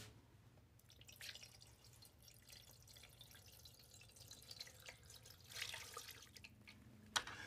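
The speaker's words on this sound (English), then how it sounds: "I'm ready to add water." Water trickles and drips steadily into a plastic flower vase, a soft continuous pour with small splashes, fairly quiet and close.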